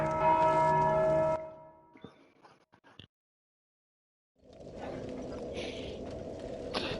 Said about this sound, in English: Someone's rang the bell, it was me!